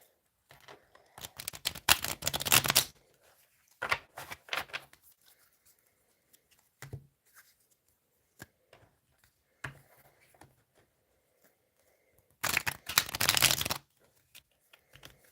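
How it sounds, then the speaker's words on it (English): Quick riffling bursts of tarot cards being shuffled, two long flurries with shorter clicks and taps of cards in between, close and fairly loud. "Let's do a few shuffles, make sure we get fresh energy."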